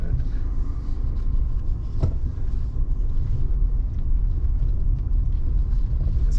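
A vehicle rolls along a rutted dirt road near mountain campgrounds, giving a steady low rumble with constant engine and tire noise and a single sharp jolt partway through.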